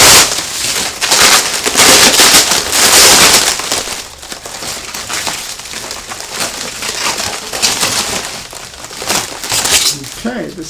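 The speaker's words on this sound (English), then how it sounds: "I like their bubble wrap. It has a sticky side." Bubble wrap with a sticky side is pulled and crinkled off a bicycle, a loud close rustling and crackling that peaks early and then carries on, with a voice speaking now and then.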